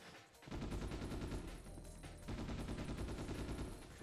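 Rapid bursts of gunfire from the PS2 video game Ghost in the Shell, loud and sustained in two long runs separated by a brief pause, with no talking.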